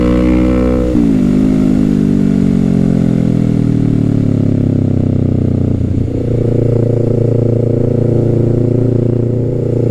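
Kawasaki Z650 parallel-twin motorcycle engine under way, a loud steady drone that drops pitch as the rider shifts near one second, then rises again with acceleration after a second shift near six seconds.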